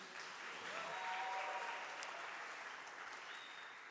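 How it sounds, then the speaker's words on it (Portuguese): An audience applauds a band, a steady wash of clapping that swells and then eases slightly over a few seconds, moderately distant, with a few faint whoops and no clear speech. "Vamos aplaudir essa turma aqui."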